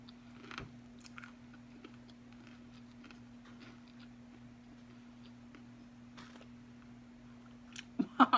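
Someone biting and chewing a Burger King Takis Whopper, quiet close mouth sounds and soft crunches over a low steady hum, with a louder burst at the end.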